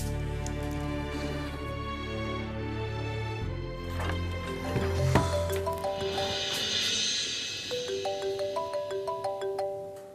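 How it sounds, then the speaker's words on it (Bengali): An electronic phone ringtone plays a repeating melodic tune, fairly loud and close, cycling through short patterns with brief pauses. "এত রাতে কি তোমাকে ফোন করে রিঙ্কুর মা"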